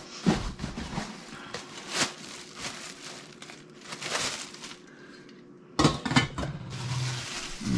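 New cookware pots and lids clank and rattle as they are handled and set down while unboxing, with irregular metallic knocks, a sharp clatter near the end and some soft rustling.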